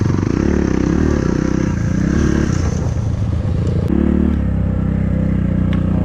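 A KAYO TSD 110 enduro motorcycle ridden off-road, its small single-cylinder engine droning loud and close with steady throttle, rising and falling revs, a brief dip midway, then pulling hard again with rattling clatter.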